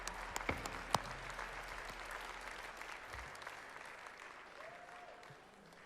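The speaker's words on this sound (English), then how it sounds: "Give them a round of applause" Applause from an awards-show audience at the 2023 Juno Opening Night Awards, dense clapping that starts strong with a few sharp claps and slowly fades over several seconds.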